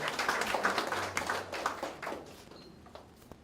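Ceremony audience applauding at an inauguration event, a modest patter of clapping from a mid-sized crowd, moderately quiet and fading out over a few seconds.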